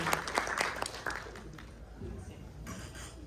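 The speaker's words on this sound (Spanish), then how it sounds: "un fuerte aplauso para nuestro invitado especial de hoy" Audience applause for a special guest at a book presentation, a handful of sharp nearby claps at first that thin into faint scattered clapping in a room.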